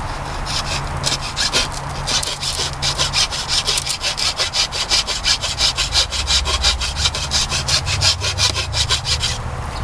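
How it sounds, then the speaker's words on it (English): A hand rasp works a wooden bow handle in quick, regular back-and-forth strokes, loud and close, a dense rhythmic scraping that carries on steadily without talk. "then I keep going a little farther in, and then I go in with my whole rasp"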